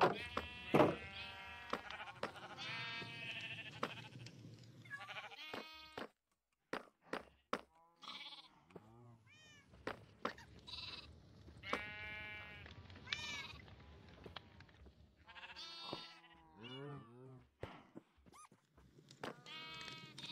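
Sheep in a video game bleat repeatedly, wavering cries that come in clusters, some overlapping, fairly close over a quiet background.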